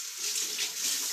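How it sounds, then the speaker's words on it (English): Tap water runs steadily over hands at a kitchen sink, a close, even hiss with a faint splash, briefly rinsing off fruit residue while making a vegan smoothie. "now I got crap all over my hands, so I'm gonna rinse real fast"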